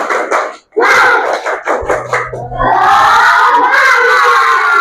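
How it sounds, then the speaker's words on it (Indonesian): A Grade 6 classroom of children performs a rhythmic spirit clap, a burst of patterned hand claps and shouted chanting, loud and close, with voices rising together and carrying on to the end. "Tepuk semangat."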